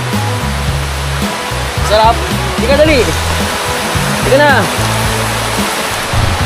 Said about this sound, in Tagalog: Dumating din ang ulan.